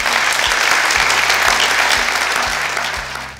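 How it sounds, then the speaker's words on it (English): A crowd gives a steady, loud round of applause for an outgoing mayor and council members, the dense clapping sustained throughout and easing slightly at the close. "Please join me in giving them a round of applause."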